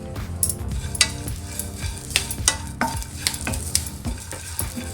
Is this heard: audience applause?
no